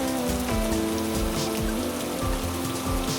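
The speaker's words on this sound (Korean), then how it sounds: "아, 비가 오네요." Steady rain falls on a surface, a dense and constant patter that continues without a break, with a faint tonal backing running underneath.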